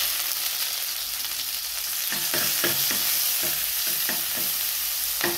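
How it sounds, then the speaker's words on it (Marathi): Garlic paste and cut chili sizzle in hot oil in a pan, a steady frying hiss with repeated scraping stirs of a spatula in the second half. "इकडे आपलं हे तेल गरम झाले, तर यामध्ये आपल्याला ही लसणाची पेस्ट घालायची।"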